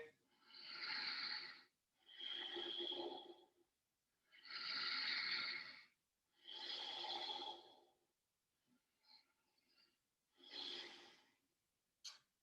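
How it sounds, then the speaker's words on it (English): Slow, deep breaths during a yoga twist, four long audible inhales and exhales close to the microphone, then softer, shorter breaths, with no talking. "Breathing deeply here."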